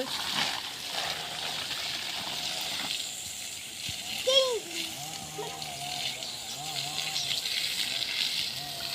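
Water runs steadily from a tap as a broad hiss, with voices talking over it and a few brief clinks partway through.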